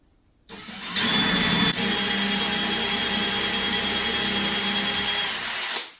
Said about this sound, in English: that's going to stop me from going any further than I want to, drilling this hole